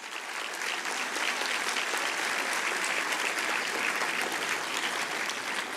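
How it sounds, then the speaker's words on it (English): Steady, sustained applause from a large crowd at a National Voters Day celebration in India, dense clapping holding at an even level throughout with no talk over it. "I think you can give a louder applause."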